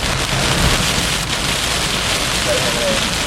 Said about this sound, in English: Very heavy rain.